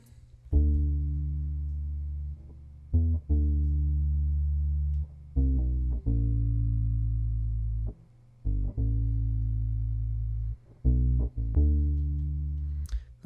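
Bass line played on an electric guitar an octave up, then pitched down: deep sustained notes in a slow phrase, each entering with a sharp pluck and ringing until the next, loud and solo.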